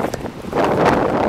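Steady gusty wind buffets the microphone outdoors in light rain, a broad rushing roar that swells louder after the first half second.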